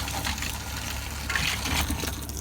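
Pink antifreeze-tinged water gushes from the low-point drain of a travel trailer water line during winterizing, a steady rushing spatter with a low mechanical hum underneath that swells briefly midway.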